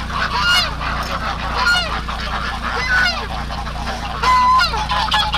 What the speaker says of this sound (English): I turn around and I can see all the ducks losing it